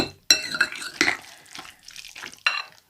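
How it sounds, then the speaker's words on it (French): Beef tartare prepared Thai-style being stirred in a bowl, a few scraping, clinking strokes and wet mixing sounds in quick bursts, close by with short pauses between them. "On mélange bien."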